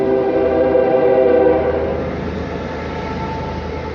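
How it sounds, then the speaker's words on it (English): A train rolls past at close range, a steady loud rumble of rail cars with a sustained horn-like tone at first that fades into continuous wheel and track noise, no talking. "as soon as this train comes by, we'll get on"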